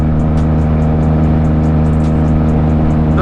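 A Yamaha motorcycle engine hums steadily while riding at cruise, a loud, even drone with a constant pitch and no speech over it.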